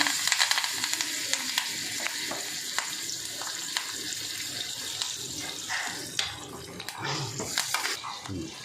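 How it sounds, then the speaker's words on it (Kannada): Curry leaves sizzle in hot oil for a sambar tempering, a dense continuous crackle with stirring clatter and a few sharper pops, steady and close throughout. "ಇದಕ್ಕೆ ಕರಿಬೇವು ಹಾಕ್ತಾ ಇದ್ದೀನಿ"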